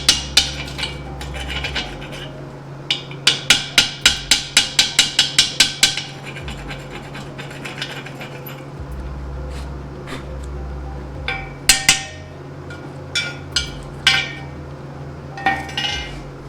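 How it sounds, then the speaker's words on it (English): Welding slag chipped off a fresh weld with a chipping hammer: sharp metallic taps in quick rhythmic bursts, a dense run of about a dozen strikes then sparser clinks, close and loud over a steady low hum. "See how that slag chips off there?"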